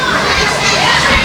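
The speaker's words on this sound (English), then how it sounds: "another great crowd here tonight at DCCW. They are very loud." A loud crowd at a live independent wrestling event roars and cheers in a dense, continuous wall of voices, with shouting filling the short stretch from start to end.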